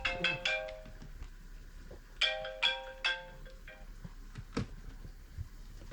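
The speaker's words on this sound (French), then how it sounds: "il y a le téléphone qui sonne." A mobile phone ringtone plays in bursts of bright melodic tones, one group near the start and another about two seconds later, moderately close indoors with a quiet background and no talking.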